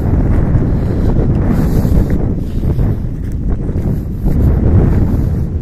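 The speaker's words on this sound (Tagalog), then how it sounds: "Lakas ng hangin." Strong wind roars and buffets the microphone in heavy, continuous gusts, dense low rumble with no talking.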